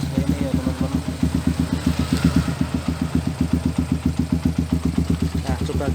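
Suzuki Satria F150 motorcycle with a standard tune-up and a Lone Rider aftermarket exhaust idling close by, a fast, steady, even exhaust pulse that stays uniform throughout.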